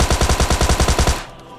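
Loud rapid burst of AKM automatic rifle fire in PUBG Mobile Lite, about a dozen evenly spaced shots in quick succession, then an abrupt stop with a short tail.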